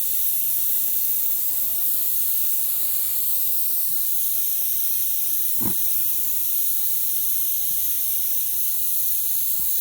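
Paint hissing steadily from an airbrush, slightly thick so it does not flow cleanly, applied as a haze over a lightning-and-clouds-over-water painting; a constant close airy spray with one brief knock partway through.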